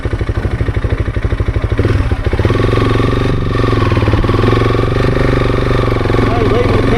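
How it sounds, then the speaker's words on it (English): A Honda CRF300 dirt bike churns through deep sand, its single-cylinder engine thumping rhythmically, then rising into a louder sustained drone under acceleration. The bike is close and loud. "leaving the campsite for the morning, straight into the deep sand."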